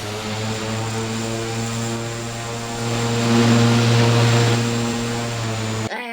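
Steady droning Cessna 208 turboprop engine hum in the video game Infinite Flight, with a strong low tone and whining harmonics, swelling slightly midway, then cutting off abruptly at the end.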